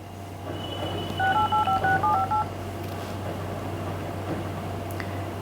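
A quick sequence of about a dozen telephone keypad tones as a number is dialed, over a low steady hum.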